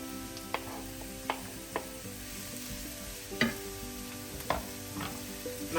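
Mushrooms frying in a pan, a steady close sizzle with a few sharp clicks and clatters of stirring spread through the clip, no voices.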